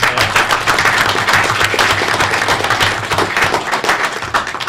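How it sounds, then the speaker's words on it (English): Audience in a council meeting room applauds steadily, dense continuous clapping at close range with no talk over it. "Let's give her an applause."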